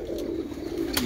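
Red-eyed pigeons give a short, soft, throaty coo nearby, with brief flutters or clicks toward the end.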